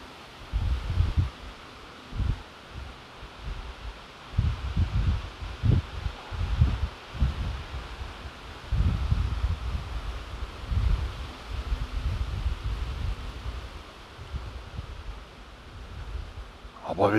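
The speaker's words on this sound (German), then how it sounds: "jetzt kommen wieder ein paar Böen rein." Gusty wind from an autumn storm, remnant of Hurricane Kirk in Saxony, buffets the microphone in uneven bursts, with a low rumbling roar and faint rustling of leaves that rises and falls throughout.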